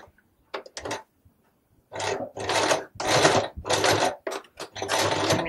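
A sewing machine runs a straight stitch along a men's shirt collar, its motor whirring in several close, loud bursts separated by short pauses, with a few brief quieter runs at the start.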